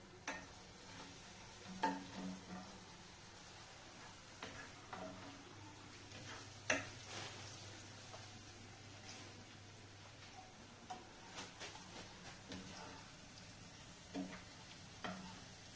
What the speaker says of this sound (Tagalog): Sige. Haluin ulit.